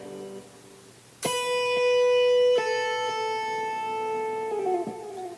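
After a quiet start, a single guitar note is plucked and rings out, then a left-hand pull-off shifts it to another note that sustains, decaying gradually.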